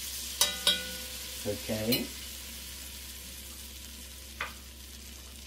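Onion and celery sear in a pan for braised beef short ribs, giving a low, steady sizzle under a few stirring clatters near the start; one person speaks briefly.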